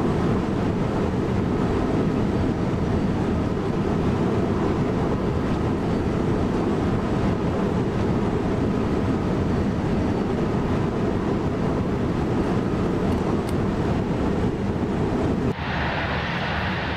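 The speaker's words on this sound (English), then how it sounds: "we should then get ready to slow train down and stop at our first station" S1 express train running on the Hauptstrecke Rhein-Ruhr route in Train Sim World, a continuous loud low rumble and rolling drone that holds steady throughout, shifting slightly in tone near the end, with no talking.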